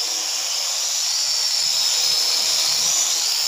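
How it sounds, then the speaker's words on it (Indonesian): A KY101 toy drone in flight, its propellers giving a steady high-pitched whine with a faint airy hiss that holds level and moderately loud throughout, with no talk. "saya coba main drone KY101"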